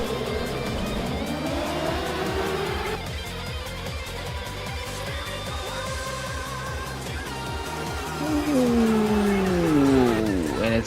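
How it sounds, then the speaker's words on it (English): A full field of 36 race cars roars off the start in the rFactor racing game, a dense, continuous wall of engines with rising revs and a sweeping pitch climb near the end, with no talking. "Here come all 36 cars ready to go for round 15 of 15."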